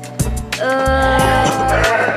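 Sheep in a pen bleat loudly and close by, one long wavering call after another sounding almost continuously with no talk.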